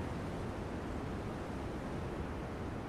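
A waterfall in the video game Elden Ring rushes as a steady, broad wash of noise, constant and even in level, with no other sounds.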